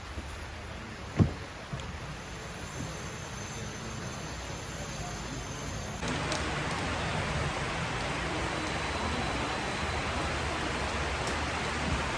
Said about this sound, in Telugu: ఒక పక్క వర్షం పడతా ఉంది